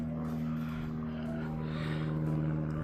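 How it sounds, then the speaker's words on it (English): A biplane drones overhead with a steady propeller hum heard from a distance, running continuously beneath outdoor background noise during home renovation work. "We got a biplane in the sky."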